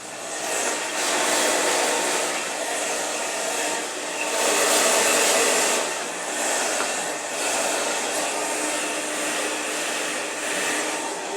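A hair dryer on low heat blows steadily close to the scalp during a blow dry, a continuous loud whoosh that swells and dips slightly as it moves, with no talking.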